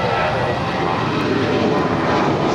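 A United airliner takes off from runway 25 right at Los Angeles airport, its engine roar loud, steady and broadband throughout, with no voices.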